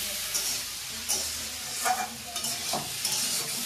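Potato chops sizzle in hot frying oil, a steady bright crackle with a few louder stirring scrapes and spatters spread through the short stretch, heard up close with no talking.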